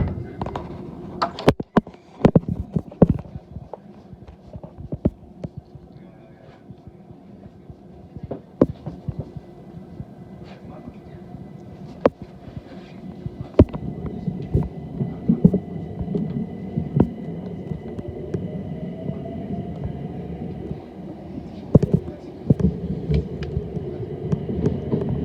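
A London Overground train departs Highbury & Islington, a low rumbling drone with rhythmic clacks and thumps from the wheels over the rails, steady and moderately loud inside the carriage.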